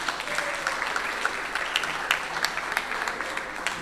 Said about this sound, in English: Let's give a big round of applause to our district governor.